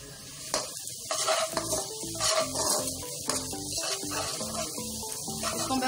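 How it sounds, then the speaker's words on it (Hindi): Finely chopped garlic fries for fried rice, with a soft sizzle under repeated rhythmic stirring and clanks of a spatula in the pan. "जो हमने अपने फाइन चॉप करके रखे थे गार्लिक। ये देखिए बहुत अच्छी सी खुशबू आएगी इसकी जब ये फ्राई होंगे।"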